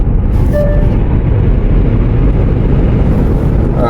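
A 2026 Genesis GV70 Electrified electric SUV accelerating, heard as a steady loud low rumble of road and wind noise from inside the cabin with a faint whine and no talking.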